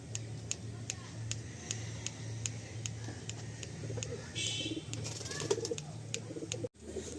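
Pigeons in a loft coo in a low, repeated rhythmic murmur alongside steady ticking, with a person talking over them and a short rustle near the end.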